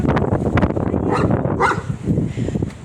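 A large dog barks and whimpers in short bursts close by, with gusty wind noise throughout.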